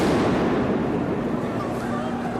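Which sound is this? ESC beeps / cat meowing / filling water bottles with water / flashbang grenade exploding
flashbang grenade exploding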